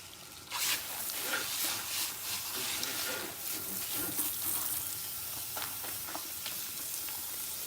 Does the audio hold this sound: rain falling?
no